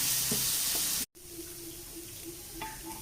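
Onions and chilies sautéing in a pan for a drumstick-leaf and lentil stir-fry, an intense sizzle that breaks off abruptly, then a quieter hissing fry with faint clinks of stirring.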